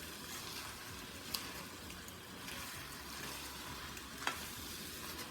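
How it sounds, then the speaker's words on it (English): Parboiled rice is stirred in a pot for Gullah red rice, a low, continuous scraping and shuffling with a couple of sharp clinks of the spoon against the pot. "Give this a quick stir."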